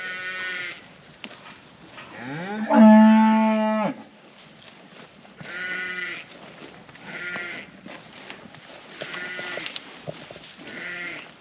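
A newly bought herd of pedigree cattle moos repeatedly, with several long, loud calls close by, one especially strong and drawn out, separated by short pauses with no talk.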